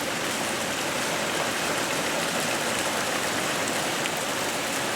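Heavy rain pours down without a break outdoors near fig trees and a lean-to, a dense, even roar of falling water that stays loud and constant with no voices.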